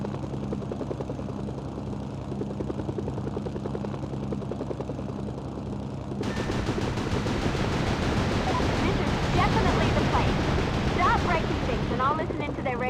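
Explosions and gunfire burst from the Mercenaries 2 video game on PS2 during an attack on an encampment in Merida, a loud sustained rumble that swells sharply midway into dense crackling blasts and shots.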